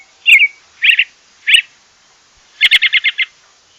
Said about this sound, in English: Did you know that in the springtime, robins sound like this?